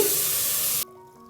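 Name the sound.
water poured into coconut egg curry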